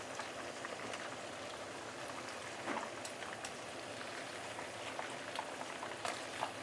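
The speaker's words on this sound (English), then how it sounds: "Use medium-high heat to fry it, yeah, for approximately 3 minutes." Large prawns fry in a pan over medium-high heat, giving a steady, hissing sizzle with scattered faint pops and crackles throughout. There is no talking.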